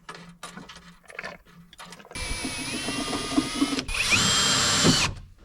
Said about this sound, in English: I'll get Riley to screw through the metal